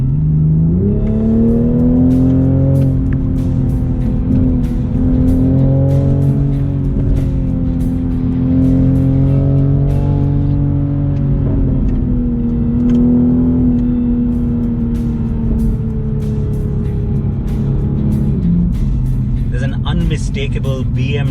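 A BMW Z4 sports car in sport mode accelerates with a steady, loud engine drone whose pitch climbs and falls through the gears, heard from inside the cabin while someone talks over it almost throughout.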